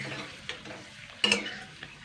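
Potato papad fries in hot oil over a medium flame, giving a soft, steady sizzle with a sharp clink of a utensil stirring partway through.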